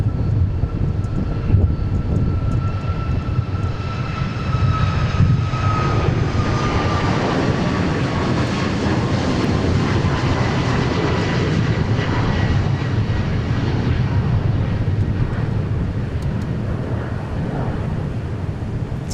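Loud, sustained roar of a jet aircraft taking off and climbing steeply out of Dallas Love Field, engine rumble filling the whole stretch with gusty wind buffeting the microphone, no talk.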